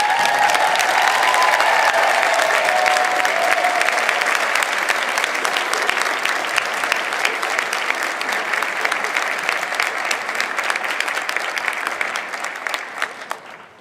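An audience claps warmly to welcome a guest speaker at a school Martin Luther King program, a dense, loud applause that holds steady and then thins out and fades toward the end.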